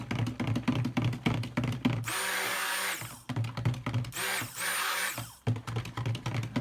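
Goat's milk soap batter being blended with a stick blender, two long steady whirring runs of motor noise separated by a short pause, loud and close over background clatter.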